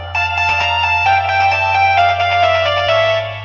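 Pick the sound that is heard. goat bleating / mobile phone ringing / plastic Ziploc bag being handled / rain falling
mobile phone ringing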